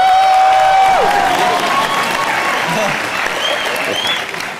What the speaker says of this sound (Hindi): चलिए हमारी नॉटी काजोल मैम के लिए जोरदार तालियां